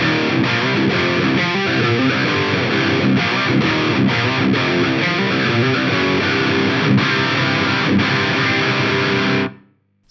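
Heavily distorted electric guitar from a single-cut PRS played through a Mesa Boogie Triaxis preamp, a dense, continuous rhythm chug lasting about nine seconds before cutting off abruptly, loud and alone with no talking.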